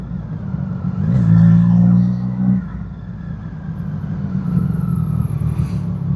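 Motorcycles crawl through a road traffic jam, engines idling and rumbling at low volume with a short rev, while a rider talks over the steady drone.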